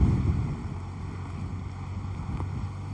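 Steady low rumbling wind buffeting the microphone throughout, loud and continuous, with no voices, recorded roadside during a stage of the CRO Race cycling race.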